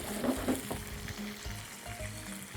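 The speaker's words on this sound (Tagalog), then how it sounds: "Remember, we're just frying this." Chicken frying in a pan with a ready-made sauce, a steady close sizzle with bubbling crackle and a few soft stirring knocks throughout.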